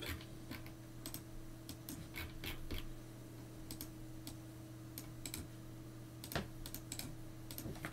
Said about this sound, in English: to do that, we again need to type